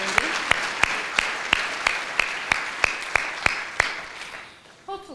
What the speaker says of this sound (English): Hopefully by now, that's an applause, Lindsay.